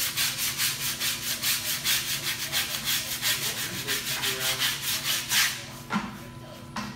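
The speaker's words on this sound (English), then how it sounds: "So I'm gonna go ahead and sand it so it's as round as I want it to be." Rhythmic hand sanding on the bottom lip of a Ford F150 dashboard, quick back-and-forth scrubbing strokes repeating steadily and close, then slowing and stopping near the end.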